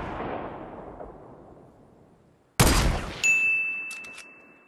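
A single sharp, loud sniper rifle crack in Fortnite Battle Royale lands after a fading rumble, followed by a ringing metallic ding and a short rattle of smaller hits.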